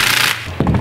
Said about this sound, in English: the easiest way is just to put 2 bolts in a corner and just slowly kind of tighten down on them